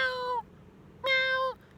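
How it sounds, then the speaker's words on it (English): A Sphynx cat gives two clear, drawn-out meows separated by a short pause, close and fairly quiet against a hushed indoor background. "if you can handle Shiva's meow, meow"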